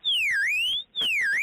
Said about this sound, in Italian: scatta l'allarme